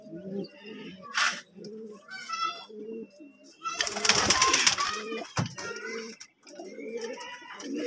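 Pigeons cooing in and around their coop, soft repeated low coos close by, with a brief burst of wing flapping in the middle.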